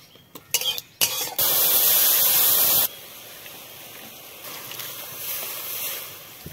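Mustard seeds hit hot oil in a wok with a short clatter, then a loud steady sizzle for about two seconds that drops to a softer hiss.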